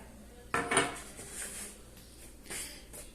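A spoon scrapes and clinks against a bowl while mixing butter into crumbly polvilho dough for homemade seven-layer biscuits, close and moderately loud, in a few separate strokes with short pauses.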